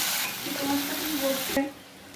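Onions browned with ginger-garlic paste being stirred in a pan, a continuous close sizzle with scraping of the spatula, cutting off abruptly partway through.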